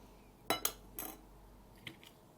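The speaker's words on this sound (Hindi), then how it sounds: "बाकी का ये गूदा आप चम्मच की मदद से अच्छे से निकाल सकते हैं व्यूअर्स" A metal spoon scoops dragon fruit pulp. It makes a few quick, faint clinks and scrapes against the fruit and the dish, close by, with quiet gaps between them.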